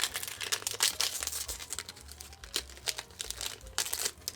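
Pokémon card booster pack being ripped open, a close, fairly quiet run of irregular foil crinkles and tearing rustles lasting a few seconds, with no talking.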